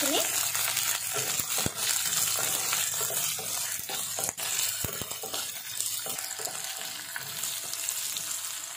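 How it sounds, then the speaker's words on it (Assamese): Chopped onion, bhut jolokia chilli and capsicum frying in a pan, a dense continuous sizzle with occasional stirring clicks, close and steady throughout. "কাটি ৰখা পিয়াজ, জলকীয়া আৰু চিমলা মিৰ্চখিনি দি দিম। মই 1 মিনিট মান ভাজিম।"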